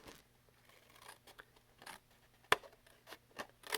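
Scissors cutting card paper to free a flap on a card, several quiet snips and crisp slices scattered over a few seconds, with one sharper cut near the middle, close and without talk.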